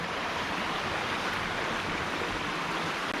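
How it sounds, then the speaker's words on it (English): A running stream rushes in a steady, broadband hiss of flowing water, close and continuous, with no other sounds or voices. "This is running water, so it's drinkable."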